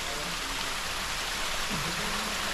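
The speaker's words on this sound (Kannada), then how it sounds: "ಇಲ್ಲಿಂದ ಮೇಲ್ಗಡೆಯಿಂದ ಅಲ್ಲಿಂದ ನೀರು ಬರ್ತಾ ಉಂಟು" Water pouring down at Bheemeshwara waterfall, a steady broadband rush of flowing water heard continuously and fairly close, with no one speaking over it.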